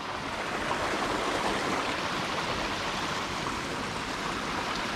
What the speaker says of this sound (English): it's just a lot of water that's just surface runoff up here